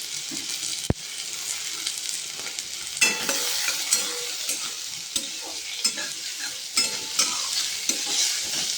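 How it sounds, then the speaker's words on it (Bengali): Vegetables with carrot and garlic fry in mustard oil with a loud, constant sizzle, while a spatula scrapes and taps the pan at intervals and one sharp clack sounds early on. "গাজরটা দিয়ে দেবো।"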